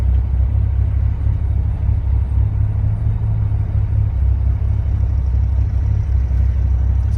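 Turbocharged Callaway Rabbit engine idling steadily, a loud, close, continuous low rumble with an even throb and no break, no voices over it.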